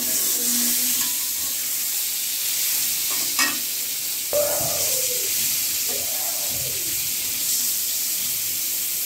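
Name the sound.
eggs frying and being stirred in a pan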